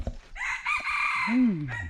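A rooster crows once, close and loud, its call rising and then falling away.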